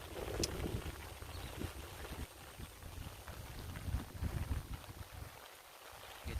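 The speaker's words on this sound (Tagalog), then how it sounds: "Ang lakas pa ng hangin, ang lamig." Gusty, cold wind roars and buffets the microphone in uneven surges in a rural province, with a low rumbling undertone and no voices.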